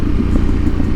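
A Yamaha Ténéré 700 motorcycle with a budget aftermarket exhaust under $300, heard while riding and downshifting: a loud, steady, low exhaust rumble with a fast pulsing throb, close and alone.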